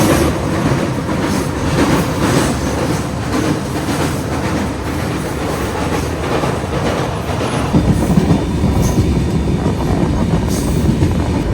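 The Himsagar Express, on its Kanniyakumari to Kashmir run, rolls along the rails with a loud, continuous rumble and rhythmic clickety-clack. Faint wheel squeals come through, heard close up from inside the carriage.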